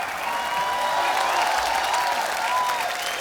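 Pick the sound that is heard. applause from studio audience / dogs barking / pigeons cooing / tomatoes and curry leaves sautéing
applause from studio audience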